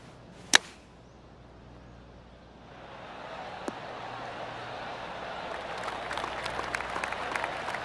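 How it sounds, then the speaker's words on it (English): A sharp crack, then scattered golf gallery applause at a tournament building up gradually from a distance and continuing steadily through the end. "Oh, golf clap"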